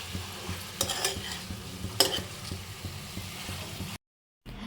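Chicken pieces with turmeric and salt fry in a pan for Mandya-style chicken chops, a soft steady sizzle broken by a few sharp scraping stirs, then a brief moment of silence near the end.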